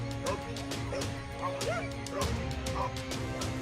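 Two dogs confront a Komodo dragon, yapping and whimpering in quick, excited bursts at close range, with several sharp barks overlapping.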